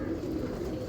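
Champion-breed pigeons coo softly in a steady, low, continuous murmur, close by and without talk.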